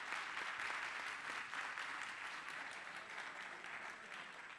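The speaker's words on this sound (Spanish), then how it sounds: "Bueno, un aplauso para él." A crowd at an eSports exhibition applauds a guest, a former player and commentator, with continuous, fairly soft clapping that holds evenly throughout.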